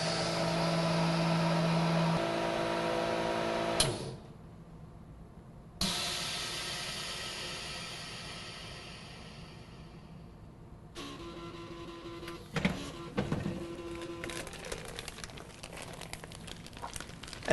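A MINIPACK vacuum sealer drawing a vacuum on a bag of heavy soup: a loud steady pump hiss that cuts off, returns, then gives way to a quieter stretch with rustling, crinkling and a hum under it.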